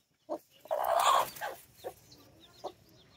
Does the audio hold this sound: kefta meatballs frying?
no